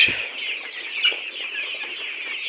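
Layer pullets at a poultry farm cluck in a dense, steady flock chorus, close and continuous, with individual hen-like calls poking out over the constant murmur.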